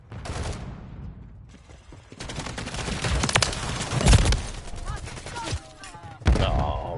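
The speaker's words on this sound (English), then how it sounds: "Old school gun." An old school gun fires in bursts in a multiplayer shooter, with sharp cracking shots in quick runs, broken by short pauses and a heavier blast near the end, while a player talks.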